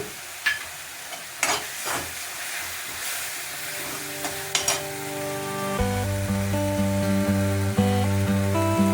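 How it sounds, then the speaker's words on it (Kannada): Cardamom and cloves clatter and stir in a hot pan with occasional sharp scrapes, then a steady sizzle and hum build up beneath the tapping. "ಒಂದು ಏಲಕ್ಕಿ ಲವಂಗ ಮೇಲೆ ಹಾಕ್ತೀನಿ ರೀ ರೋಸ್ಟ್ ಆಗುತ್ತೆ"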